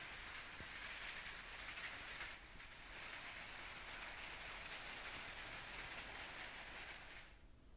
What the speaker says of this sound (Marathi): रत्नागिरीतल्या दापोलीला अवकाळी पावसानं झोडपून काढलंय